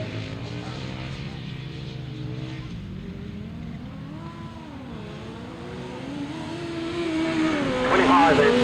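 Grasstrack racing motorcycles, including a big V-twin and a Yamaha, buzz with a wavering, rising and falling engine note that grows louder and closer near the end.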